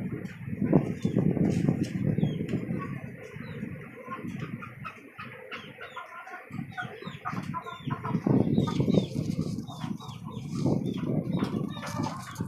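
Desi chickens on a rooftop farm cluck and squawk in frequent, overlapping bursts, with a rooster-like call among them. The birds sound close and busy throughout.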